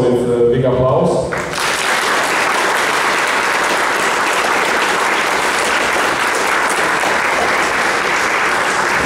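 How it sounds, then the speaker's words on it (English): Audience applause at a comics festival meeting with an author: after a brief spoken moment, dense, steady clapping swells and fills the room without letting up. "please greet her also with big applause"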